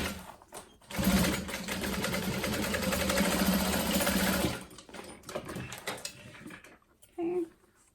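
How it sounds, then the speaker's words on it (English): A sewing machine runs a second line of stitching along a seam on a bowler bag, a steady mechanical whir lasting a few seconds, followed by quiet handling sounds and a brief final burst. "So I'm going to do that second line of stitching right next to it within the seam allowance."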